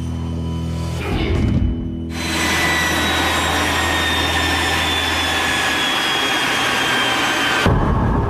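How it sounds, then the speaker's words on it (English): Turbine-powered Firebird concept car from the 1950s, its jet-like turbine engine droning, cutting out briefly, then settling into a loud, steady high whine before dropping away near the end. "As a prototype for a turbine-powered car, the first Firebird was a rousing success."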